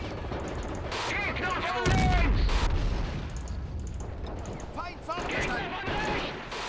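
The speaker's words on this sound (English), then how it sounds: "Okay, we've got our AT gun firing, our mortars ready." Anti-tank gun and mortar fire in the war game Men of War: Assault Squad 2 rings out as loud repeated booms and cracks, with a heavy blast near two seconds and echoing battle noise throughout.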